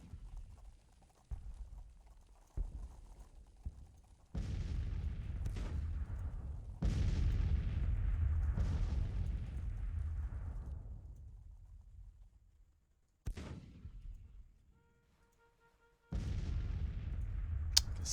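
Heavy artillery booms in the Civil War strategy game Grand Tactician, several deep blasts spaced apart, each rolling off into a long low rumble, with quieter patches and faint clatter between them.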